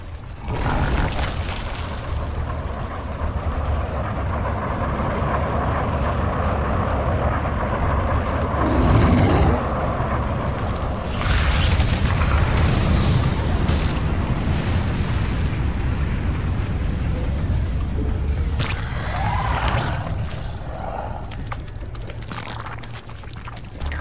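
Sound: Terran missile launch and explosion in the video game StarCraft II

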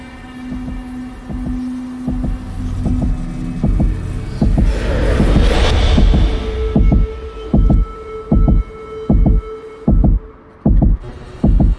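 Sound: heartbeat sound in video game Tower of Fantasy

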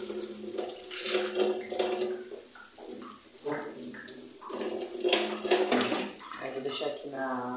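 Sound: water running while washing salad vegetables

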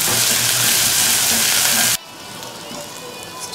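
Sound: stirring green chilies frying in a pan for cumin rice

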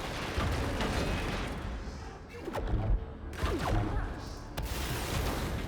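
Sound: shooting in a video game

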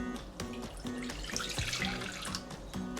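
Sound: pouring lukewarm water into a kneading bowl

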